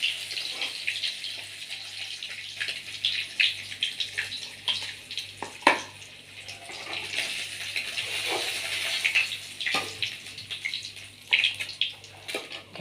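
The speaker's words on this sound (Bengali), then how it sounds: "মাছগুলিকে ভাজা হচ্ছে, দেখতে থাকো" Pabda fish fry in oil in a wok with a steady close crackling sizzle, broken by sharper pops and spatters; no one speaks.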